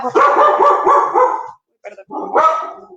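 A small female pet dog barks in quick, loud, close bursts, a run of sharp yaps, a brief pause, then another short volley, with no talk over it.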